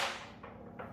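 An air gun fires a treated aluminum bolt: one sharp, loud crack at the start with a fast decaying whoosh, then faint follow-up clicks and rattles close by.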